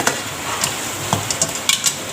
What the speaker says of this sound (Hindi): ये सारी चिकन डाल के अब हमने इसकी भुनाई करनी है।